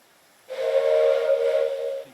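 A steam train whistle in Mafia: The Old Country, set in Sicily in 1906, blows once as a loud, steady, breathy blast of about a second and a half that starts abruptly and then cuts off.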